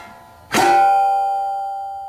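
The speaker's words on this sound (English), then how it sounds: "Nice church bell sound." A solid metal shaft struck once rings out like a church bell, giving a sharp close strike followed by a clear, loud sustained tone that slowly fades over two seconds.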